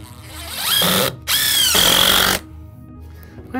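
A battery power drill drives screws into a deck railing in two loud, close whirring bursts, its motor pitch rising under load, with a brief gap between them.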